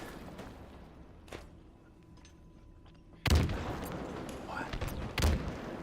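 Video game gunfire in a multiplayer shooter, heavy booming shots and bursts loud in the mix, with a player's voice talking over the action.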